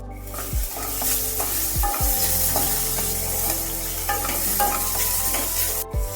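Vegetables sizzle loudly in hot oil in a pan while being stirred for a salad, a dense continuous frying hiss with regular scraping and knocking strokes of the utensil, close up and without voices.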